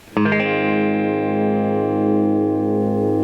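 A single electric guitar chord, a Chinese fake Gibson through a Line 6 amp on the clean channel with both pickups, no distortion or reverb, is struck and rings out steadily, sustaining loud and even with a clean, rich tone.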